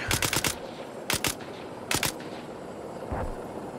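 Gunfire in the video game Arma 3, during an Invade & Annex mission, crackles in three short rapid bursts of several shots each, fairly close, with a duller, more distant report near the end.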